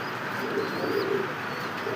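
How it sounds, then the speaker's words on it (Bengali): Indian Lotan pigeons coo softly in a pigeon house, with low, rolling coos and a few faint chirps against quiet background noise. "অরিজিনাল ইন্ডিয়ান লোটন কবুতর, জিরো বারের বাচ্চা পছন্দ হলে সংগ্রহ করবেন।"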